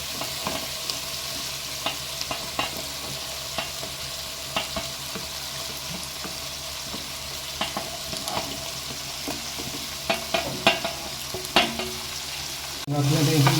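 Onions, potatoes and mixed vegetables sauté in a pan for chicken minestrone soup, a continuous close sizzle punctuated by regular clicks and scrapes of a spoon stirring, with a louder clatter near the end.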